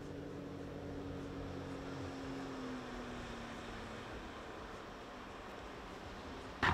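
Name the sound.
boat approaching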